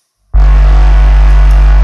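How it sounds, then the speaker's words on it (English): A loud, sustained hip-hop sub bass synth note from a software preset kicks in abruptly after a brief silence and holds steady, deep and booming with a buzzy upper edge. "that's a hip-hop sub bass"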